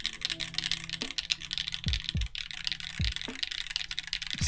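Typing on a DCS mechanical keyboard with a UK ISO layout, Type R switches and a copper plate: a quick, close run of crisp clacking keystrokes with a few deeper thocks, heard alone.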